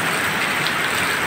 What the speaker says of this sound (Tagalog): Ngayon, ulan naman na yung medyo malakas.